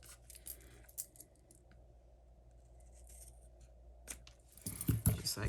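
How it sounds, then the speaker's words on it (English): Scissors snip through a paper sentiment label for a handmade greeting card, quiet close cuts with small crisp clicks, ending in a louder rustle of handled paper. "we're going to take our scissors and we're going to trim our sentiment label right here"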